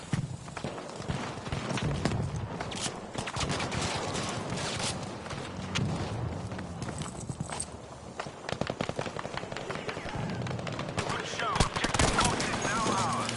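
Rapid gunfire crackles through a Battlefield V multiplayer match, dense bursts of shots mixed with battlefield clatter that stay fairly close, while a player talks over the action.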